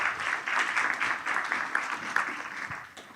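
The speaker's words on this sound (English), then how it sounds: "Give a round of applause." Audience applause at a youth entrepreneurship forum, a moderate crowd of hands clapping steadily and fairly close, fading slightly toward the end.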